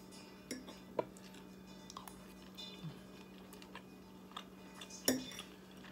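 Cutlery scrapes and clinks against a plate while someone eats spaghetti with carrots, green peppers and beef. A few quiet, sparse taps and a brighter clink stand out over a low steady hum.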